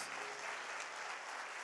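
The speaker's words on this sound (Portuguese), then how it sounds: "Vamos aplaudir o Senhor nesse momento," Church congregation applauding during a Portuguese-language Nazarene service, a dense, even wash of many hands clapping continuously at a soft, distant level.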